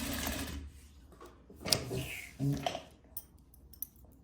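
A sewing machine stitches cording into a corset in short, quiet bursts, with brief mechanical whirs and clicks separated by pauses.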